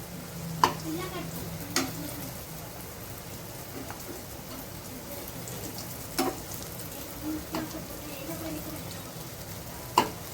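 Chicken kabab patties fry on a tawa with a steady sizzle and crackle, punctuated by several distinct taps and scrapes as they are turned one by one.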